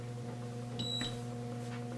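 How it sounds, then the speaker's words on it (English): A short electronic beep from a MINC foil and laminating machine signals it is heated and ready, ringing out once over a steady low appliance hum, fairly quiet and clear. "you went ahead and heard that beep. That means that the machine is ready"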